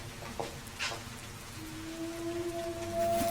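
Steady rain patters in a soft, constant hiss, with a faint tonal hum running beneath it for a few seconds.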